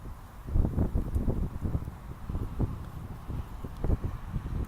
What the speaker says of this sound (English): it's kind of windy out here, guys.